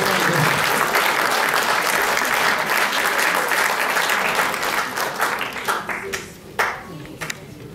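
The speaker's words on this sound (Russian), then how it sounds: "Громче, громче, аплодисменты." Sustained audience applause at a clown-themed circus festival in a hall, dense and loud clapping that thins into scattered claps toward the end.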